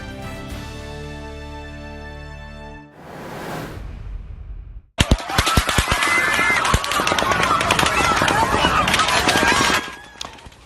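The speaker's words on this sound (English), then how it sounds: "Machine gun fire." Rapid machine gun fire at the close of a three-day country music festival, a long dense burst of cracking shots after a quieter stretch of other sound, loud and continuous for several seconds.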